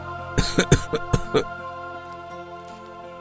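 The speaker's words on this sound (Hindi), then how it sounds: "मुझे बहुत तेज खांसी हो रही है।" A burst of harsh coughs, five or six in quick succession, fairly close, followed by quiet with a faint background hum.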